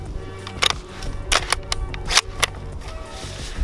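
A custom airsoft railgun built on an SRU VSR-10 sniper rifle fires at a target about 80 feet away, with a few sharp cracks and clicks over a steady outdoor background.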